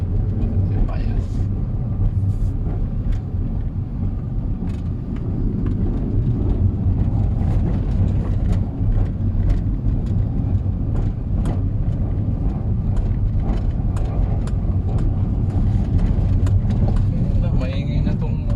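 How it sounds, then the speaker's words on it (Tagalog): Vehicle engine running loud and steady while driving in Sta. Barbara, Pangasinan, a continuous low rumble throughout with people talking over it. "Maingay na tong sasakyan ni."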